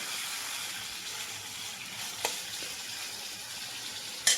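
Chicken pieces frying in a pan for chicken curry, a steady soft sizzle running throughout with a couple of faint clicks and a brief clatter at the end.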